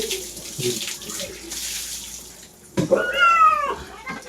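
A cat is bathed inside a cage as water runs and splashes around it, then the cat lets out a drawn-out, wavering meow close by, with a little low talking early on.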